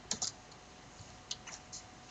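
A few crisp computer keyboard key presses in 3D modelling software, a double tap near the start then single light clicks spaced apart, close and quiet with no talking.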